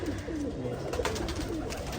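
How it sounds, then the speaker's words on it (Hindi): A fine old Rampuri pigeon coos close by in a soft, continuous throaty run over steady background noise. "बहुत पुराना उम्दा कबूतर है ये"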